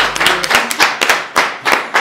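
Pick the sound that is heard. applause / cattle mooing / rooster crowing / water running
applause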